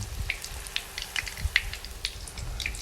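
An omelette frying in hot oil in a pan, with quiet, close sizzling and scattered crackling pops throughout.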